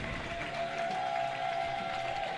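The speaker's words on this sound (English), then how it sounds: "Portagers salute the crowd. Crowd gives them their appreciation for another job well done." A box lacrosse arena crowd applauds the Chicago Portagers, a steady, dense wash of clapping and cheering lasting throughout, with a faint steady tone underneath.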